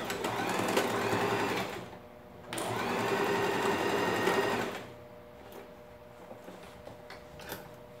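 Sewing machine stitching the fabric lining of a tall zippered toiletry bag, two close runs of steady whirring separated by a short pause, then quiet handling with faint clicks.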